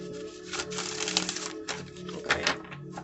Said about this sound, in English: I feel like I need to shuffle, guys.